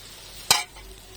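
Broiler chicken with turmeric and chili powder being stirred while frying, heard as one short loud scrape-and-sizzle burst over a faint background hiss.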